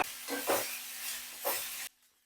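Grated coconut fries in a pan and is stirred, giving a soft sizzling hiss with three swishing scrape strokes close by, then the sound cuts off abruptly.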